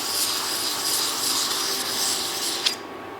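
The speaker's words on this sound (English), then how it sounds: "I'm just using the surface plate and a piece of sandpaper to level out the surface of it." Steady rasping scrub of a machined part being leveled on sandpaper laid over a flat surface plate, a continuous even rubbing that stops abruptly near the end with a small knock.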